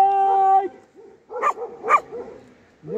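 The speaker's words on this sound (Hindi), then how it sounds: "कुत्ता आया ना ये भाई, सबसे छोटे छोटे वाला डॉगी" A small dog barks a few sharp, high yips at night in a forest camp of nomadic shepherds in Himachal, close and loud, with a tonal hum at the start and short gaps between barks.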